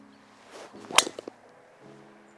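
A golf club strikes the ball on a tournament tee shot, a single sharp crack at close range, followed by a couple of faint knocks and quiet outdoor ambience, with no talk.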